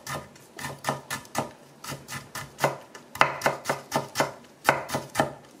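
A knife finely julienning radish on a cutting board for a Korean side dish, a fast run of crisp, evenly spaced chopping strokes close up with short pauses between bursts, no talking.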